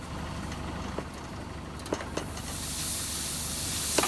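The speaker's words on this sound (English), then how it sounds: "Oh yeah, it's going down really quick. That tire is flat." Air hisses out of a punctured spare tire on a demolition derby car, a steady breathy rush that grows louder and brighter toward the end, with a few sharp knocks nearby.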